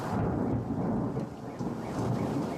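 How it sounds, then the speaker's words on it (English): Deep rolling thunder rumbles continuously over steady rain and hail during a storm in Ontario, loud and close, with no voices. "In Ontario, thunder was so strong it set off a car alarm"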